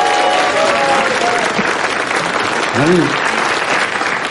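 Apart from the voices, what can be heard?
studio audience applause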